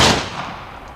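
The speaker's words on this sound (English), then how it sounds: "He spun around and shot." A single sharp gunshot-like blast with a loud onset that decays into a rumbling tail over about a second, standing alone with no talk.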